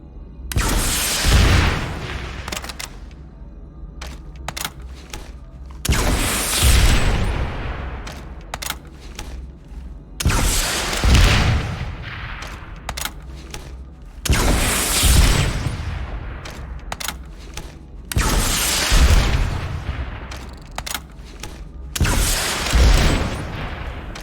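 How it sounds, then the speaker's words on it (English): Rocket launcher shots blowing up enemy tanks in the Planetside 2 video game, five loud explosive booms spaced a few seconds apart, each followed by rumbling debris and crackling gunfire, with no talking. "Switch to your rocket launcher and use it to blow up an enemy vehicle."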